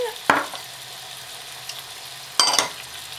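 Onion and preserved lemon fry gently in a pan for chicken mkelli under a low, steady sizzle, broken by two sharp scraping strokes of a spoon stirring.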